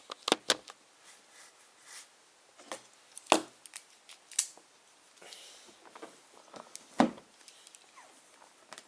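Board game box for Dice Throne being opened, with a blade slicing through its shrink wrap: sparse, sharp crinkling cuts and taps, a few louder snaps, close and fairly quiet with gaps between.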